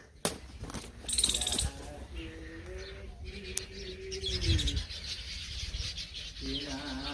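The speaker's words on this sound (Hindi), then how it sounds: "चिड़ियों की चहकने की आवाज भी आ रही है।" Birds chirp and coo in a Vrindavan forest near a hermitage, with a pigeon-like coo and scattered tweets at moderate distance while a person talks intermittently.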